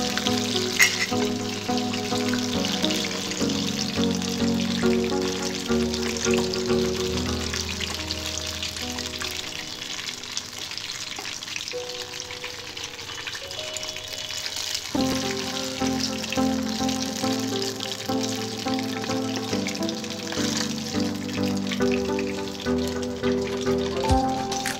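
Brinjals (eggplant) frying in hot oil for a Konaseema-style brinjal curry, a steady dense sizzle with crackling pops that runs unbroken and fairly loud, briefly dipping midway, while tonal music plays underneath.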